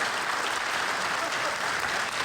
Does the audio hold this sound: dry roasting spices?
no